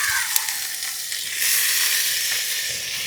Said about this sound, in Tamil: தக்காளியை போட்டுருவோம்.